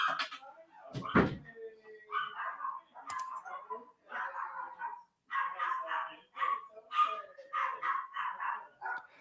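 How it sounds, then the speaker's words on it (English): Indoor dogs bark in repeated bursts and yips through most of the stretch, fairly close and moderately loud, with a couple of sharp knocks or door-like thumps early on and no clear talk over them. "dogs are barking"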